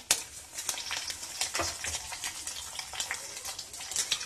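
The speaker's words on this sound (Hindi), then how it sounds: "इन सबको थोड़ा सा भून लेंगे।" Bay leaf, whole dried red chilies, curry leaves and dry garlic frying in hot oil, a close, bright crackling sizzle with sharp irregular pops over a steady hiss and no talking.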